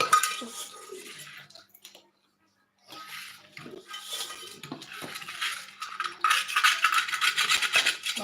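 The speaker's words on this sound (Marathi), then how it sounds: "हे जे सगळं मिश्रण आपण टाकायला आहे ते सगळं एकजीव करून घ्यायचं आहे" Methi laddu mixture is stirred and scraped in a bowl, a spoon clinking and rubbing in uneven strokes with a short pause partway, and someone speaks at times.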